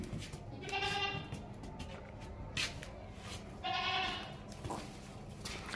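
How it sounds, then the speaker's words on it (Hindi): A healthy young dairy goat at a livestock sale bleats twice, loud nearby cries a few seconds apart amid background chatter and crowd noise. "हर तरह से फिट बकरी है और ज़बरदस्त बकरी है।"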